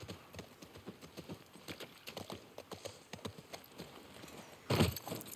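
Horse hooves clip-clopping at a steady walking pace in The Last of Us, a regular run of moderate hoof strikes with a louder thump near the end.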